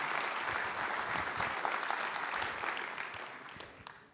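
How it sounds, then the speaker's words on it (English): Audience at a Long Beach civic address applauds small business owners and entrepreneurs, a steady wash of many hands clapping at moderate distance that gradually fades toward the end. "I want to give a round of applause to all the small business owners and the entrepreneurs that are investing in our community"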